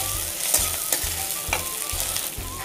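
Ginger garlic paste fries in a pan for a Bengali egg tadka, a constant crackling sizzle broken by regular stirring scrapes about twice a second, close and alone.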